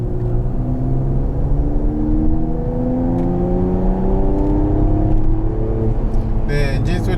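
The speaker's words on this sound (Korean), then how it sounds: "엔진 소리와 배기 소리는 좀 우렁차고요." A 2022 Mercedes-AMG GT43 4Matic Plus in comfort mode pulls away on a winding mountain road, its engine and exhaust rising loudly through a series of quick upshifts, each gear climbing in pitch before dropping back.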